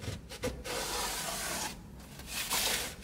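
A cloth or sponge wiping mold off a porous plasterboard ceiling, a close, continuous scrubbing rub with short pauses and no speech.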